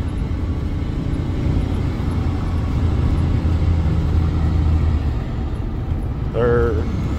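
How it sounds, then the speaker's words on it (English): A 1994 Dodge Ram pickup truck drives with a steady, loud engine and road rumble filling the cab, and a brief rising whine near the end as it shifts down through the gears. "Shifting and slowing down now."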